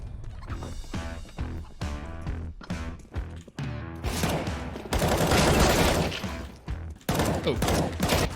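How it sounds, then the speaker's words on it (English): Warm-up gunshots in a competitive shooter video game, rapid bursts of rifle and automatic fire with sharp cracks and brief pauses, loud and near, building into dense overlapping volleys. "this is typically the warm-up shots, you never hit those in real game"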